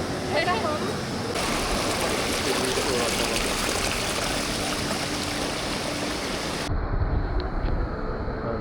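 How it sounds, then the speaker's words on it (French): Waterfall and stream at Davis Creek near Cairns, Australia, a loud continuous rushing roar of falling water heard close up, with voices talking over it. "Ah, c'est la cascade."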